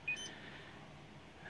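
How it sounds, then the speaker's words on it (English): A single short, faint electronic beep sounds near the start and is followed by quiet room hush. "Sorry about that beeping you heard."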